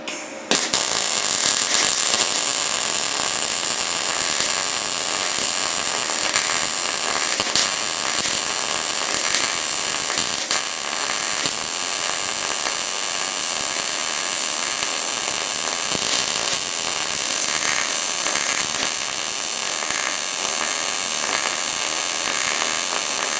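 Steady, close crackling buzz of a YesWelder DP200 welder filling a gap in 14 gauge sheet metal, a continuous hiss with irregular pops and snaps running throughout without pause.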